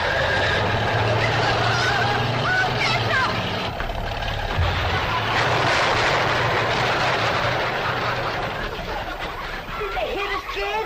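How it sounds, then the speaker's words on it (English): An old truck crashes into a wooden chicken house in a noisy, continuous jumble of honking fowl, engine and splintering clatter, with people talking and shouting throughout. "Cousin Pearl and that overgrown son of hers is headed right for the cabin in that old truck."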